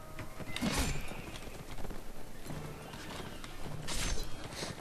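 Horses galloping in the video game Mount & Blade, a busy rhythm of hoofbeats with a few sharper clattering bursts, close and moderately loud, with no talk.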